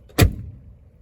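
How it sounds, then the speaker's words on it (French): A single solid thunk of a 1983 Mercedes 230E W123 door being shut, close and heavy, with a brief low decay afterward and no talk. "le bruit de la porte quand on la ferme est très satisfaisant"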